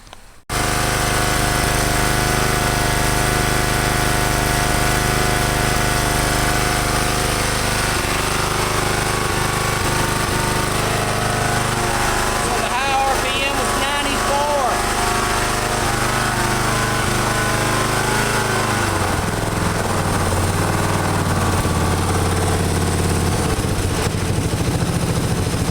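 A small engine runs steadily through two homemade mufflers joined together, a loud, continuous close-up drone with a sustained low rumble that shifts slightly in tone partway through and carries on to the end without speech.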